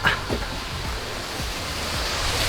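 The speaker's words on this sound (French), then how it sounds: "des jolies cascades." Waterfalls cascade beside the Bisse de Goreperi irrigation-channel trail, a steady, loud broadband rush of falling water that fills the whole stretch, with a few soft low thumps underneath.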